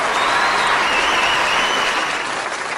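A crowd applauds throughout at a Tamil stage event, a dense, steady wash of clapping that stays loud and even from start to finish, with no voices.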